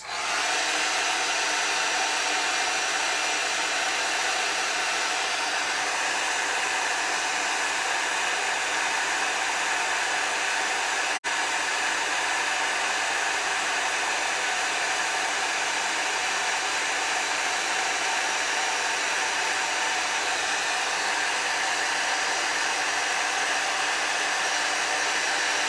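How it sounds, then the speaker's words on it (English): Steady, loud roar of a heat tool melting embossing powder on a card, unbroken and close, with no talking. "let's heat emboss this really quick"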